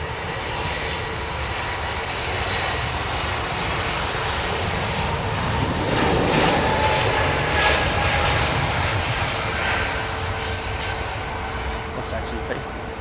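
A large jet airliner roars past near a runway, a loud, steady engine rumble that swells toward the middle and fades slowly, with people talking underneath.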